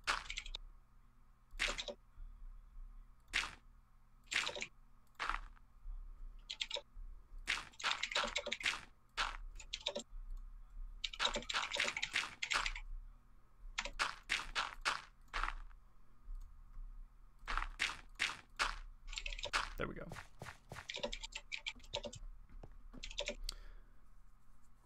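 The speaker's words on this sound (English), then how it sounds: "I'm hearing a bunch of typing." Rapid typing on a computer keyboard, with bursts of clicking keystrokes and short pauses between runs, fairly close and steady with no talking.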